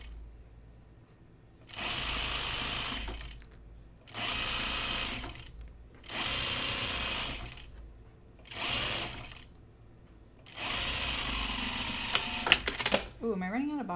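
A sewing machine stitches a blazer seam in several separate bursts of a few seconds each, with quiet pauses between them and a voice talking near the end.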